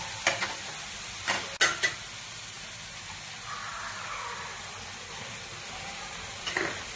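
Capsicum frying with chopped onions in a pan for tawa paneer masala, a soft low sizzle with a few sharp clanks of stirring near the start and end.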